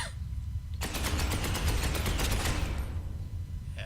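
Rapid bursts of automatic gunfire from the video game Space Hulk Ascension, a burst of about a dozen sharp shots in quick succession, loud against a low background rumble, then fading.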